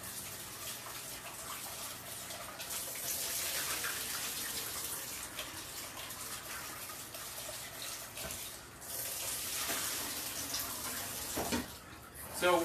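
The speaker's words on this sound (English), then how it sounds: "now I'm just going to rinse them under cold water" Cold tap water runs steadily over pork chops in a sink to rinse off excess starch, a continuous gushing splash that shifts now and then as the chops are moved, with no talk over it.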